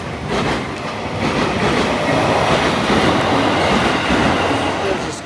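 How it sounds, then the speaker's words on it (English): A train rumbles past close by, a steady loud roar of wheels on rails lasting throughout with a faint clatter. "Here comes a local train."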